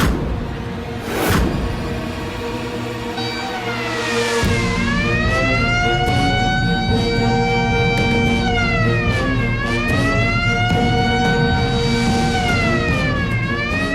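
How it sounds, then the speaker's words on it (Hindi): A loud prison escape alarm siren wails, rising and falling in long sweeping cycles, sounding continuously after a brief thump at the start. "किसी ने कैदियों में फरार होने वाला सायरन बजा दिया है"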